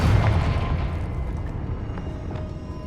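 A Confringo blasting spell explodes in the video game Hogwarts Legacy, a heavy low boom at the start that rumbles and slowly decays over a few seconds, with no voices.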